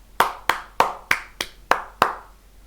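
Sharp, close hand claps, seven in all, spaced about a third of a second apart in a steady rhythm, each a crisp smack with a short decay in a quiet room and no talking.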